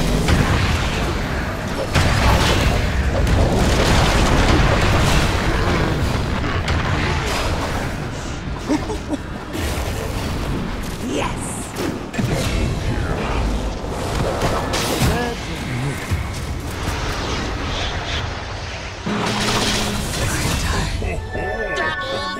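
Dota 2 match audio with a steady wash of loud battle sounds, booms, bursts and whooshes as a tower comes under attack and falls, with a game announcer's voice speaking over the constant din.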